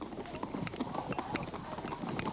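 Police horses' hooves clip-clopping at a run during a mounted unit drill chasing mock demonstrators, a fast irregular patter of hoof strikes over outdoor background noise.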